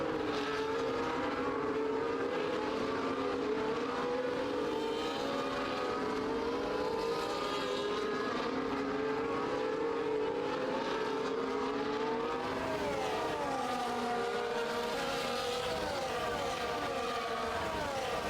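Race cars in a racing video game circle steadily behind the safety car, a continuous layered engine drone with shifting revs and overlapping pitches, moderately loud and unbroken, with no talk over it.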